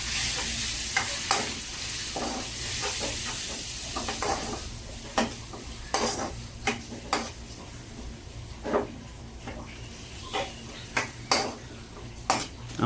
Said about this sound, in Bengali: মশলাগুলো ভালো করে আমি মিক্স করে নেবেন।